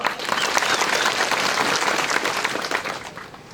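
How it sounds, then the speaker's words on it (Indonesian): Church congregation applauding during a fundraising report in Korupun, West Papua, a dense burst of clapping that holds steady then fades out over a few seconds. "Beri aplaus untuk Tuhan"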